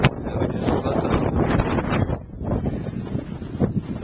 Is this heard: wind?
yes